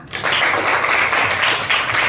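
A burst of steady clapping from a group, dense and continuous, starting abruptly and holding at a fairly loud level.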